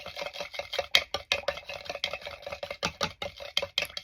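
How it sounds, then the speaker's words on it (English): A stirring rod mixes a shimmer face and body oil in a small container, making quick rhythmic clicks and light taps against the sides, close and fairly quiet. "take our stirring rod and just stir the mixture together"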